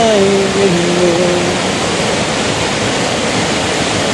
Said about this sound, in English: Listen to the sound of the river flowing down my window